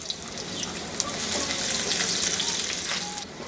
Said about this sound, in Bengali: তিন টেবিল চামচ সাদা তেল গরম করে তার মধ্যে দুইটা মাঝারি সাইজের পেঁয়াজ দেশি পেঁয়াজ ওটা একটু ভেজে নিব